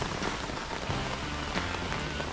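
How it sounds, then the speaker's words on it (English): Heavy rain drums steadily during a wet camping stop on a motorcycle tour, a dense unbroken hiss with scattered louder drops close by. "I also camp in heavy rain."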